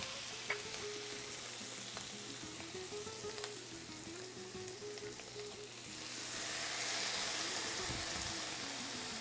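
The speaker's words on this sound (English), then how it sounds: "Nice sizzle." Steady loud sizzling of food frying in a pan, swelling brighter and louder partway through, with faint clinks of utensils.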